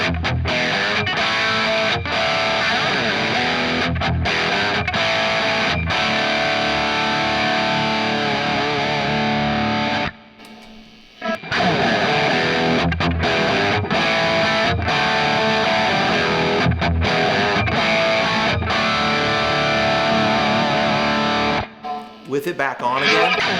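Distorted rock electric guitar played through a Kemper amp profile, loud crunchy riffing with steady chugging strokes, two short breaks of near silence, and a voice briefly heard.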